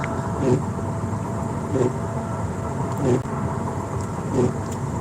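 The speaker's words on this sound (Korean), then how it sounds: "네, 빗길 안전 운전하고 있습니다." Inside a right-hand-drive Toyota Supra on a rain-soaked road, a steady hiss of tyres and road noise is heard, with soft thumps recurring about every second and a half.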